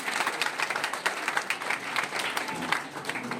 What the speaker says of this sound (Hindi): और एक बार खूबसूरत ग्रामीण चिकित्सक के लिए हम लोग ताली बजा रहे हैं